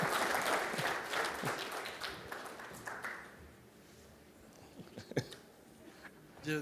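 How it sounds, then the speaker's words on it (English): Audience applause for a former Prime Minister at a presidential summit launch, a dense burst of clapping that fades out over a few seconds, leaving a few scattered claps and faint room noise. "A round of applause for the former Prime Minister."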